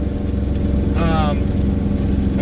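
Dodge Ram 5500 with a Cummins diesel pulling a 46,000 lb hotshot car-hauler load up a mountain grade at high RPM, a loud continuous low engine drone with a brief higher whine midway.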